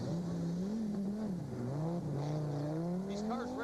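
A rally car driving on snow at the 1999 Rallye Quebec, its engine whining and revving up and down in rising and falling pitch as it slides, close and loud for a few seconds.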